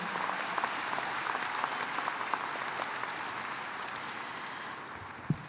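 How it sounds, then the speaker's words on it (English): A large audience at a high school graduation ceremony breaks into sustained applause, a dense, steady patter of many hands that holds for several seconds and ends with a single louder thump. "Now please applaud and thank them for the background work they have done"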